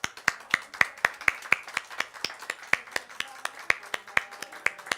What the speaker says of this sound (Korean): 나오셔서 감사한 박수로